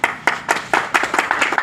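Audience clapping at a hospital health check-up camp held in a garden, with sharp, rhythmic claps in a steady pattern at close range and no talk over them.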